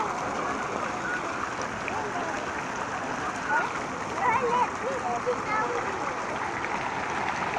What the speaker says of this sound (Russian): Классный фонтан. И рыбы плюются в воду